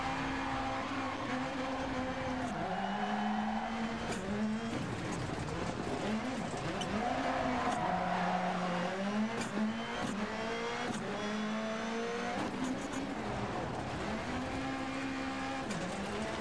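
A rally car in DiRT Rally 2.0 revs continuously with repeated gear shifts and bursts of tire skidding and wheelspin, loud and close throughout with no speech over it.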